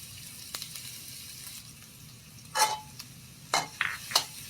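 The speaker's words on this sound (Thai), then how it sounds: "แรกก็เอากระเทียมผัดนะครับผม" Chopped garlic stir-fried in a hot pan for a pork and egg dish, quiet at first, then several loud bursts of sizzling and scraping stir strokes up close with no talk.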